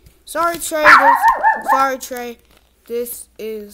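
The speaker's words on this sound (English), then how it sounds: "Sorry, that's my dog." A dog barks and yips a few times close to the microphone, mixed in with a person talking indoors.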